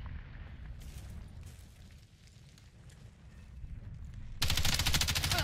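Gunfire in Call of Duty, rapid bursts crackling through a muffled, low-rumbling mix, then a much louder, dense automatic volley in the final second.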